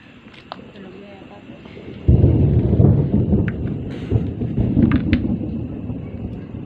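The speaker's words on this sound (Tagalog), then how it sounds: "Kidlat." During a typhoon on the way to Baguio, a sudden deep rumble of thunder breaks in and rolls on for several seconds over a steady patter of rain.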